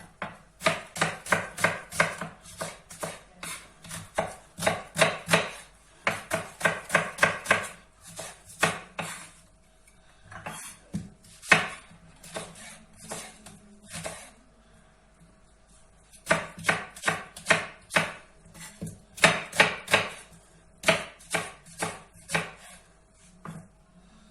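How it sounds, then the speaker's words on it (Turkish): A knife chops onions rapidly on a cutting board in steady bursts, pausing briefly between runs of quick, even strikes. "Hemen 2 orta boy soğanımızı doğrayacağız."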